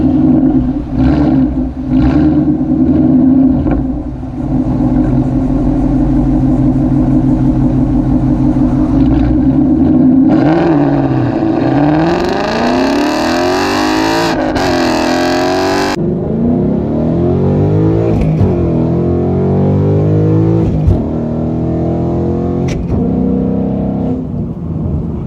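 A manual 2018-19 Ford Mustang GT V8 rumbles at idle, then accelerates hard from a stop, revving up loudly through several gear changes with rising and falling engine pitch, heard from inside the car.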